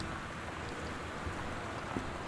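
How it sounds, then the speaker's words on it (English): Steady rain falling outside a large house on a dark, cloudy day in the video game Gone Home, a soft continuous hiss with faint scattered drops, even and unbroken, no voices. "It was a dark and somewhat cloudy, but definitely rainy day."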